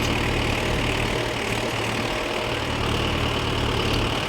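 A tractor engine runs at a constant pace, a loud, unbroken low rumble with a droning hum that holds steady throughout.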